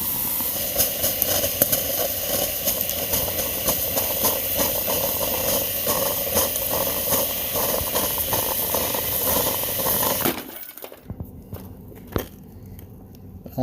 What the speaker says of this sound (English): looks like coffee maker works just fine on 240 volts.